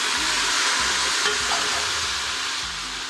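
Onions and tomatoes for beef keema biryani fry in a pan with a loud, steady sizzle, broken by repeated scraping stirs close by, with no voices.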